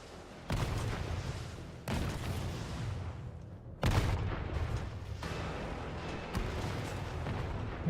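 Rocket launcher blasts in the 2020 Resident Evil 3 remake: a series of loud, sudden booming explosions, each followed by rumbling debris and dense noise, continuous and near.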